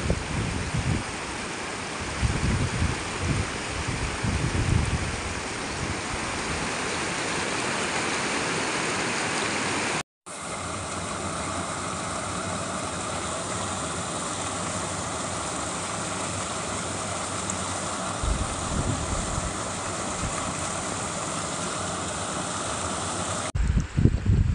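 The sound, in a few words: water rushing at overflowing Nandari Dam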